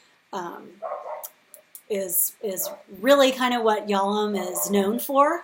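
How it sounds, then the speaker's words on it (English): Several dogs bark in a run of repeated, tonal yelps in the background, partly masked by a person lecturing steadily over them. "Sorry about my dogs barking."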